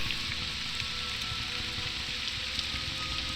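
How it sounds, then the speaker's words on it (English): Steady rain in Morrowind makes a soft, even hiss that continues unbroken, with no voices or other clear sounds on top. "the atmosphere is so great when the rain is out and the fog at a distance"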